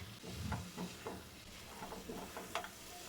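Fried crab pieces are stirred in a pan with spice paste and oil for a crab curry, giving a faint, steady sizzle broken by soft scraping stirs and a few small pops.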